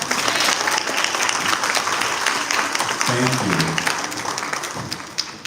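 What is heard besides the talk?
congregation applauding the choir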